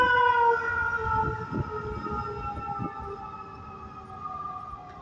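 Ambulance siren wailing on a street at traffic lights, rising and falling tones held steady and fairly loud throughout, with rumbling traffic underneath.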